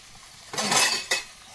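Plates and dishes clatter nearby in two quick bursts, one longer rattle followed by a short clink, against a quiet kitchen.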